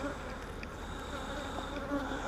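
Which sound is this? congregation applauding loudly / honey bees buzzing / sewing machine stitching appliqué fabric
honey bees buzzing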